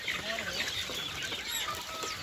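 Chickens on a poultry farm of over seven hundred birds cluck and call in a busy, overlapping chorus, fairly faint and continuous with a few wing flaps.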